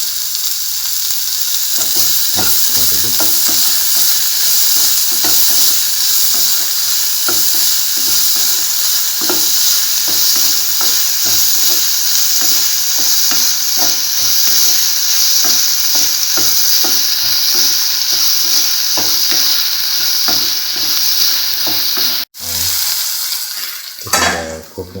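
Cucumber coconut stew stirred in a hot frying pan, a loud steady sizzle with repeated scraping strokes of the spoon throughout, ending in a brief clatter and quieter bubbling.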